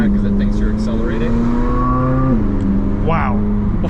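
A 2024 Chevrolet Corvette's engine revs hard toward 8,600 RPM, a loud rising wail with a sharp shift near the midpoint, followed by a brief tire squeal.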